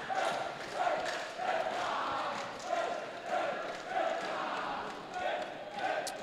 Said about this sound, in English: PE's crowd just as jubilant as ever.